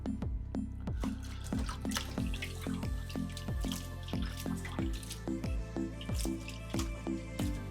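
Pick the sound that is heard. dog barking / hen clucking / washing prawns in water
washing prawns in water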